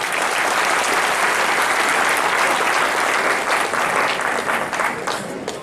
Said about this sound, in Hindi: एक बार जोरदार ताली मार के कर दू।